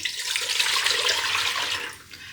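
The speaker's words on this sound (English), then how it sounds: "3 cups of water into the cooking pot" Water pours in a steady, hissing stream into a Ninja Speedi cooking pot for about two seconds, then tapers off, close by and with nobody speaking.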